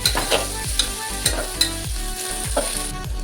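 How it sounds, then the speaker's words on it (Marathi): Garlic-ginger paste stirred into frying onions for veg pulao, heard as a loud, close sizzle with a steady rhythm of repeated spoon strokes scraping the pan. "आपण त्याच्यामध्ये लसूण आणि अद्रक ही सगळी पेस्ट बनवली ती आपण टाकून घेऊया त्याच्यामध्ये ते पण थोडंसं हलवून घेऊया"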